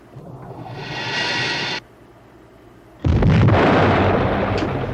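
A loud film sound-effect explosion as a torpedo strikes a ship's magazine: a roaring blast swells and cuts off, then after a brief lull a second, heavier rumbling detonation erupts and keeps roaring to the end, with no voices.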